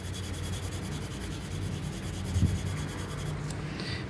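Pencil shading across paper with a light hand, a soft continuous scratchy rub that carries steadily at low level through the whole stretch, with no voices.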